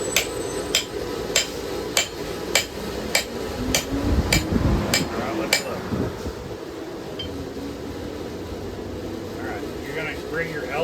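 Hand hammer tapping hot steel while forging a knife, about ten evenly spaced ringing strikes over the first half, then fading into background noise with a voice speaking.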